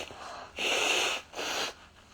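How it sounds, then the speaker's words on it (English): A person blows their nose in two forceful, breathy honks, the first longer than the second, close up with a quiet pause between them and no speech. "hold on, I gotta blow my nose."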